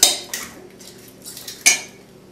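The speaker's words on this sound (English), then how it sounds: "Just 1 egg. Crack that into the bowl." An egg cracked against a bowl for cookie dough, with two crisp close knocks and a faint clink between them.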